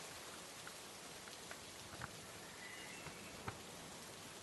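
Steady rain falling in Indonesia during the rainy season, a soft continuous hiss of drops with a few slightly louder patters, even and unbroken, with no voices.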